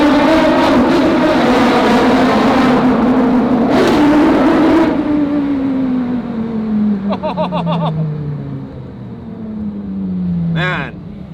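Porsche Carrera GT engine revving hard and accelerating up close, a loud rising then falling engine drone with sharp throttle blips, while people talk over it.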